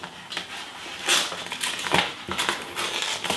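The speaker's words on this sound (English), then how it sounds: "It has a self-adhesive carrier which you need to peel off." A white self-adhesive cover peeled away from a PPD FrameIt canvas carrier, giving close, crackly tearing and crinkling bursts that come in several uneven pulls.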